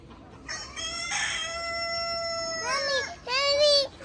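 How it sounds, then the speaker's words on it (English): A rooster on a small private farm in Raleigh, North Carolina crows loudly and close, a long drawn-out call followed by a shorter rising burst, with no talk over it. "That's the rooster."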